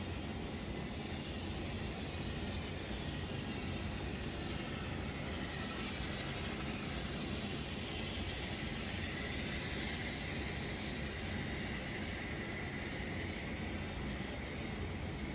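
A continuous low rumble and hiss of model Athearn Genesis GP38-2 diesel locomotives running along track, steady and even throughout with no talking.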